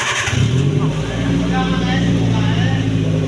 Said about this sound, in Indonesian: Ready, kita nyalakan mesin.